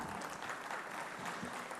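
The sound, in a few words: applause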